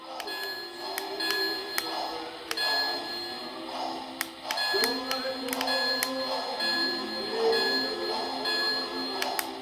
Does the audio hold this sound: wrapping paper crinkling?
no